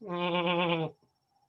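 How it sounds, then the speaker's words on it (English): A goat gives one soft, steady bleat lasting under a second, close and clear, followed by silence. "You kind of hear the soft bleating of a goat every now and then."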